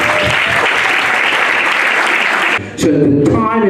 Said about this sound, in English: So can I have a round of applause?